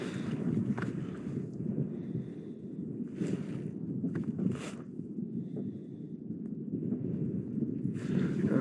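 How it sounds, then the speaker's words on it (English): Steady wind noise rushes over a boat on a lake during walleye fishing, a constant low roar with faint scattered knocks and rustles and no voices. "We'll let the wind take us in. It's starting to pick up a bit here."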